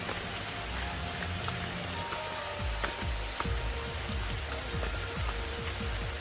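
Rain falls steadily at Amruthadhara Waterfalls in Maredumilli, Andhra Pradesh, making a continuous broad hiss with scattered close drops tapping and splashing on surfaces throughout.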